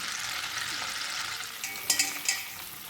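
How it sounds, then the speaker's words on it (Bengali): Cauliflower florets frying in white oil with melted butter in a kadai, a steady close sizzle with a few sharper crackles and stirring clinks near the end, no voices. "হালকা করে ফুলকপিগুলো ভেজে নেব।"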